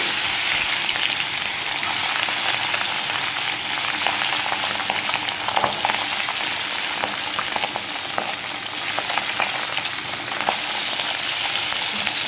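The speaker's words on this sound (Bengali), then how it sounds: "এখানে আমার তেলটা গরম হলে আমি মাছটাকে দিয়ে দিব" Tengra fish, coated in spices, fries in hot oil with a steady, loud, close crackling sizzle that holds for the whole stretch, scattered pops and scrapes of stirring on top, no voices.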